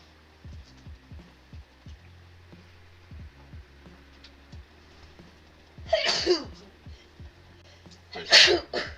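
Two sharp sneezes burst out a couple of seconds apart, loud against a quiet room with faint hum and soft clicks.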